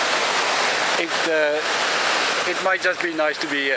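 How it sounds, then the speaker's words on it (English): A tropical waterfall roars nearby as broadband rushing water in a hot, humid setting, steady and loud, while someone speaks over it. "I'm closer to the waterfall, so I'll have to yell."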